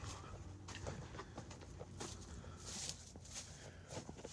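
Chickens cluck softly in the background on a farm while footsteps crunch and shuffle nearby, with intermittent higher-pitched bird calls.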